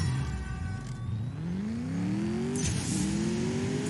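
Mercedes-AMG S 63 Coupe engine in the CSR2 drag racing game revving up through the gears, rising pitch sweeps broken by a quick gear shift, loud and continuous.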